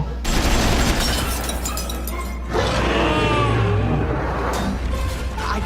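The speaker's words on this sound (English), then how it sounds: "2 machine guns popping out of his pooper." Machine-gun fire from Astro Boy's rear-mounted butt guns comes as dense, rapid bursts, with a break before a second sustained volley, against cartoon battle noise.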